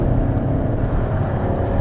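A Chevrolet Camaro Z/28 engine gives a loud, close, deep roar that holds steady and full-bodied throughout, with no voices.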